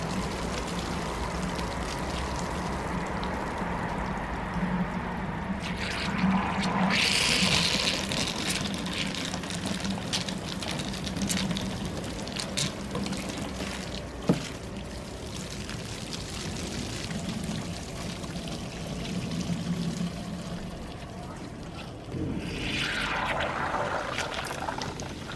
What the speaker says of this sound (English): watch how the water sprays out from the side of the bottle